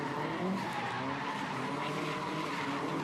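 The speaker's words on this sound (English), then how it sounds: "Love the sound of those flat 4 engines." Subaru rally cars with flat-four engines growl and skid through a gymkhana grid finals run, a dense continuous roar of engine and tire noise with crowd wash and no clear voices.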